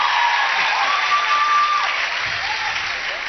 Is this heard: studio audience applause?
yes